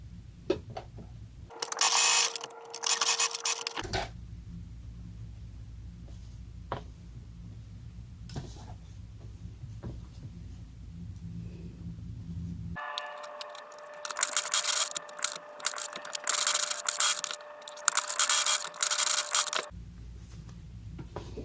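An electric sewing machine runs a straight single stitch through the fabric of a face mask, in two separate bursts of rapid mechanical whirring and clatter with quieter handling in between.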